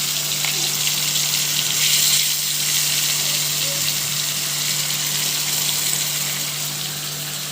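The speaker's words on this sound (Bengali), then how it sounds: "পরে জলগুলি দিয়ে দিব।" Water poured into a hot pan of frying rohu fish for a village-style bhuna curry, a continuous gushing hiss and sizzle, close and steady, fading slightly at the end.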